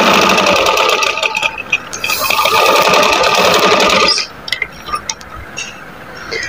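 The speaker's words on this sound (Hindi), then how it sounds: "अब मैं दूसरी साइड पे भी सिलाई लगाऊंगी इस तरह से" A sewing machine stitches a fabric trim at close range, a fast continuous whirring clatter for about four seconds, followed by a few short bursts and clicks as the fabric is handled.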